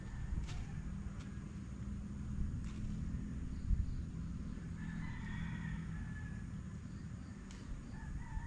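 A rooster crows a few times at a distance in a quiet rural countryside setting, with faint clucking and steady background ambience between the calls.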